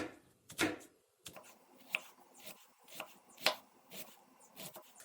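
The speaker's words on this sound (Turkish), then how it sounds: "Soğanlarımızı ince ince doğruyoruz." A knife finely chops red onion on a board in quick, uneven strokes, crisp taps close by with short pauses between them.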